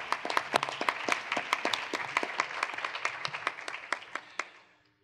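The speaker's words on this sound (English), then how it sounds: "I think a big round of applause is really." Conference audience applause at a concluding session, a sparse, distinct round of hand claps at moderate distance that thins out and fades away toward the end.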